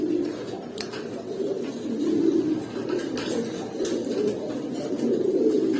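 Paired Silver, Hemar and Bezi pigeons coo in low, rolling, repeated phrases close by, with the cooing continuing steadily throughout and a few light flutters or taps over it.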